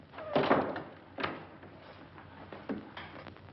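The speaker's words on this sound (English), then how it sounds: "Lock the door again." An interior door thuds shut, followed by a lock or bolt being worked and a second softer knock, all close by with no talking.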